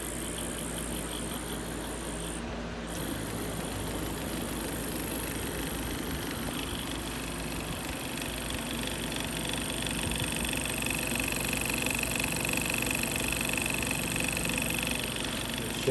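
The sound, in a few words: Bedini wheel turning with spark gap oscillating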